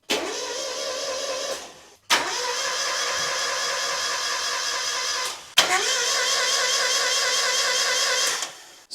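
Mazda MX5 engine with no compression cranking on the starter in three long bursts of about two, three and three seconds, a fast even whirring spin with no firing, separated by brief pauses.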